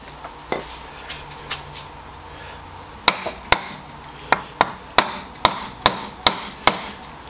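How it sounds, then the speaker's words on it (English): Sharp metallic hammer strikes on a rusted mid shaft of a 2003–2010 Saab 9-3, a few scattered at first, then a steady run of about a dozen evenly spaced blows ringing out close by. "I'm going to see if I can hammer the shaft through"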